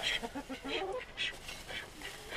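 Ducks quack repeatedly in a loose, overlapping chorus close by outdoors, as a flock leaves its enclosure where eggs are being collected.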